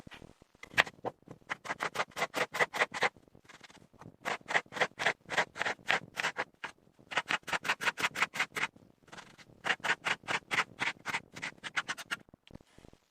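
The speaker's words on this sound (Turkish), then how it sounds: "Evet arkadaşlar şöyle bir soğan doğrayacağım içine." A knife chops an onion rapidly on a cutting board in quick rhythmic bursts, with short pauses between runs of close, crisp taps.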